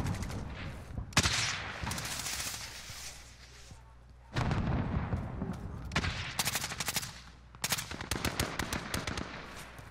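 Intermittent gunfire in Call of Duty Warzone, bursts of shots near and far with quieter gaps between, some sharp rapid volleys and heavier booming reports.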